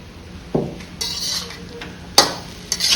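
Chicken pieces drop into a hot pan and are stirred for restaurant-style chicken fried rice: sharp utensil scrapes and clatters over a faint sizzle, in several bursts.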